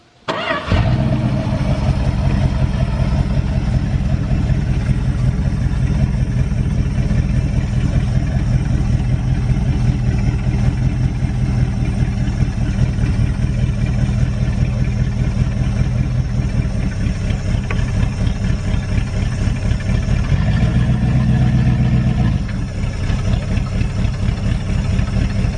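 An old Dodge D150 pickup engine idles steadily and loudly up close, a continuous rumbling drone that holds even throughout, with a slight shift in tone near the end and no talking over it.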